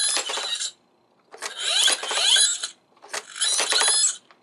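Mechanical ratcheting clicks from the fingers of a Marvel Legends Power Gauntlet toy, three separate bursts of whirring, clicking gear noise with short silent gaps between them, close and fairly loud.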